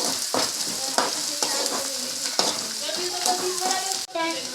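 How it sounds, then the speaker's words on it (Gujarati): Onion and green garlic tempering hisses and crackles in hot oil, a steady close sizzle with intermittent stirring scrapes and a brief dip near the end. "હવે ડુંગળીનો વઘાર મારી દીધો લીલું લસણ નાખી દીધું"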